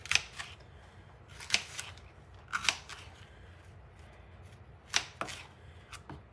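Knife cutting through apples on a board, several at a time: crisp, close crunching slices in irregular bursts, each with a soft knock of the blade, over a faint low room hum.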